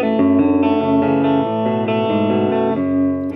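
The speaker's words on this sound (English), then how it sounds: "So let's go ahead, plug it in and explain its tones." A 2019 Fender Vintera 60s Modified HH Jaguar electric guitar in Surf Green played through effects, loud strummed chords with a chorus-like shimmer and slight distortion, ringing clearly with no talk.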